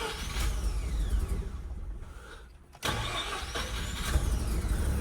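A Mazda RX7 Series 5 rotary engine cranks briefly, cuts out for a moment, then catches and settles into a steady, buzzy idle, close by and fairly loud.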